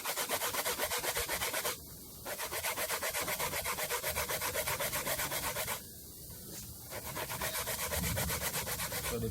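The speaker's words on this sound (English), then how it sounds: "grate out the coconut" Coconut is grated outdoors in rapid, steady rasping strokes, close and loud, with two brief pauses in the scraping.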